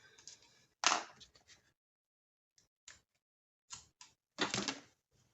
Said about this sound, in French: On va couper ce qui dépasse.